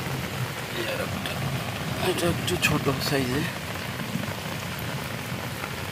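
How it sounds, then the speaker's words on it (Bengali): Heavy rain pours steadily onto a home courtyard, a dense continuous hiss close by, while a person speaks briefly over it. "এই দেখুন কীভাবে বৃষ্টি পড়ছে।"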